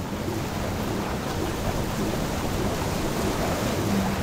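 Steady rain and wind in a Trainz railway simulator scene, a dense, unbroken wash of noise that stays loud and even throughout, with no voices.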